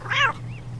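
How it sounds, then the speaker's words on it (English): A cat in the video game Postal 2 gives one clear, fairly loud meow with no talk over it, followed by a faint second mew. "Okay, I'm gonna get this cat."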